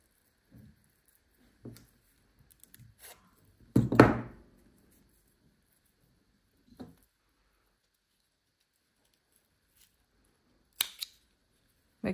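Scissors cutting glittery cord while a drawstring bag is being made, with a few sparse snips and a louder crunching cut near the middle, separated by quiet gaps and no talking.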